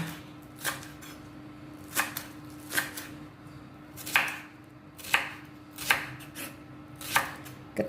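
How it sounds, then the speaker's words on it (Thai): Knife chopping spring onions small on a board, about ten sharp, evenly spaced cuts at a slow, steady pace, close and fairly quiet, with no talking. "ต้นหอมยายก็จะหั่นเล็กๆประมาณนี้ค่ะ"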